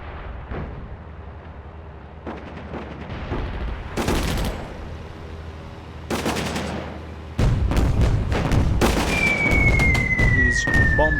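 Bombing and gunfire in the WWII strategy game Attack at Dawn: North Africa at El Alamein, sharp explosions and bursts of shots building to a louder dense barrage, with a descending whistle near the end.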